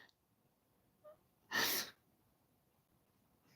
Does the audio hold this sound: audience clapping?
no